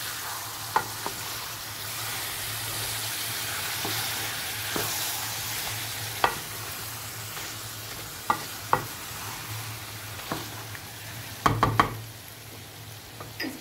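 Chicken and pumpkin curry cooks in a pan under a quiet, low sizzle, with scattered spoon knocks and scrapes from stirring and a small cluster of clatters near the end. No talking is heard.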